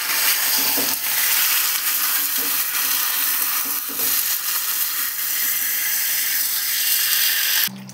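Spice paste for a fish curry fries in oil, giving a loud, steady sizzle and hiss with faint stirring scrapes throughout. It cuts off abruptly just before the end.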